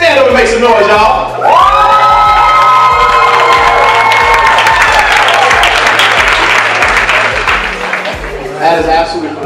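A live audience at a sales event cheers, whoops and applauds loudly and continuously for several seconds, with shouts and scattered voices mixed into the crowd noise, swelling and then easing slightly before a final burst.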